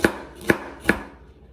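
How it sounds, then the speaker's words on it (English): A knife slicing carrots on a cutting board, three crisp evenly spaced chops close up, then quiet. "you want to start off by, you know, slicing carrots"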